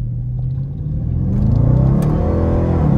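A Dodge Charger R/T accelerating hard: a deep, steady engine rumble rising in pitch and volume as the revs climb, heard from inside the car with no talking.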